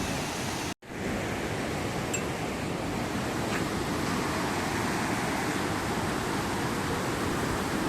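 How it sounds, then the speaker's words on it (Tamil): Steady, loud rushing of water falling at Malampuzha dam in Kerala on a rainy day, a broad continuous roar close by, briefly cut to silence near the start. "தண்ணி விழுற சத்தம் பாருங்கள்"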